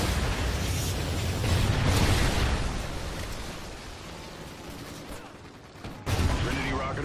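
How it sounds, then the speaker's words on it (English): Trinity rocket strikes hit in a video game as a dense roar of blasts and rumbling gunfire, loud and continuous, fading in the middle before a sharp new impact bursts near the end. "Friendly Trinity rocket inbound."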